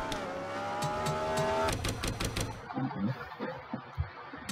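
Race cars roar past at Bristol in NASCAR Racing 2003, their engines swelling and then cutting out into a scatter of crunching, clattering impacts from a crash into the fence.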